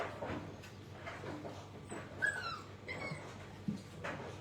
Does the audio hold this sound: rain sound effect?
no